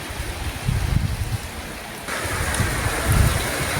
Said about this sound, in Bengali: কত বৃষ্টি, বাবা ঘর বাড়িগুলো ঠান্ডা হচ্ছে